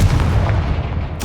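A Confringo blasting spell cast in the Hogwarts Legacy video game bursts out as a loud, continuous explosive rumble with a sharp crackling flare near the end, heard alone without speech.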